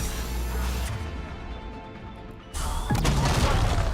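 A grenade explodes in Mass Effect 3 combat: a sudden loud boom breaks through the din of gunfire, followed by sustained crashing noise.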